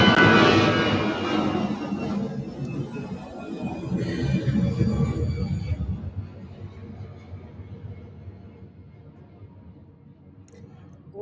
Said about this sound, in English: Well, here comes a plane.